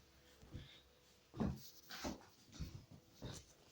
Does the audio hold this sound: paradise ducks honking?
no